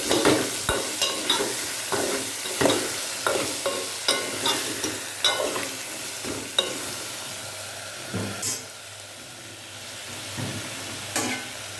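Tomato pieces stirred into frying sambar in a pan, repeated scraping strokes of the spoon over a low sizzle, close by and rhythmic at first, then quieter with occasional single stirs.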